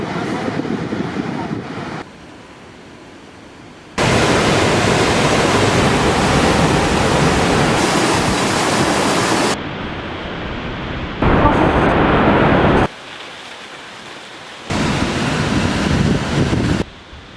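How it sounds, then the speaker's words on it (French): Roaring rush of a waterfall in Iceland, a broad steady wash of noise that shifts in loudness between segments, close and powerful with no voices. "c'est énormément de cascades, des cascades de partout"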